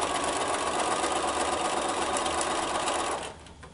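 A sewing machine runs fast and steady as quilt triangle units are stitched together, a close, continuous whirring that stops abruptly near the end, with no talking.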